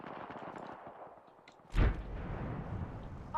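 A grenade blows up in a battle-royale shooter game with a sudden loud, close blast and a short decaying rumble after it, set against ongoing gunfire and game effects.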